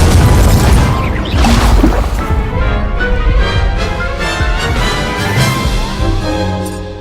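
A fiery Incendio spell blast in Hogwarts Legacy, heard as a loud booming burst with crackling, rumbling tail that fades slowly over several seconds; no talking.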